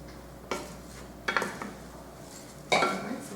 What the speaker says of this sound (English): We just want to saute the rice